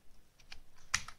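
A password goes in on a computer keyboard in a short burst of a few soft keystrokes, quiet and close, ending with one sharper key press.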